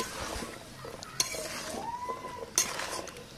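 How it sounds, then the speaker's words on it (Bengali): Mixed vegetables being turned in a cooking pan, with soft scraping and a couple of sharp clinks of a utensil against the metal, fairly quiet overall. "সবগুলো সবজি এক এক করে দিয়ে দিচ্ছেন, এরপর ভালোভাবে নেড়ে চেড়ে নেবেন যেন মশলা ভালোভাবে ঢুকে যায়"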